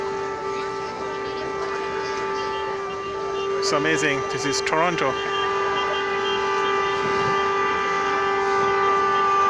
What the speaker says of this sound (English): Everybody is honking.